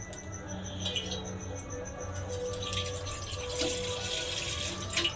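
Water pours steadily into a kadai set on a lit gas stove while making masala dosa, a continuous close splashing fill that runs for several seconds without speech.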